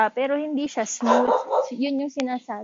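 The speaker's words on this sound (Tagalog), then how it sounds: "Sorry sa aso ko." A dog barks in a quick series of yips and barks close by, with someone talking over and around them.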